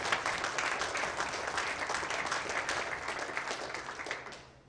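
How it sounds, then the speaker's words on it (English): Applause from the audience at a professional squash final, a steady, dense wash of many hands clapping for several seconds before thinning out and fading at the end. "and a big round of applause for them."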